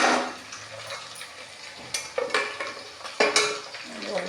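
Leftover sambar stirred and fried in a pan: a spoon scrapes and clinks against the pan in repeated strokes over a soft sizzle, close and fairly loud.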